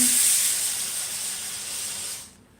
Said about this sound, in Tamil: குக்கர் சத்தம் கேக்குதே